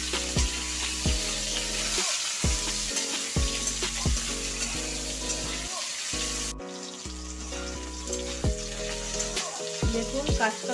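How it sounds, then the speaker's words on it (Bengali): Raw green banana and potato pieces sizzle steadily in a frying pan, a continuous hiss running under louder background music throughout. "কাঁচকলাগুলো আলুর সঙ্গে ভেজে নেব।"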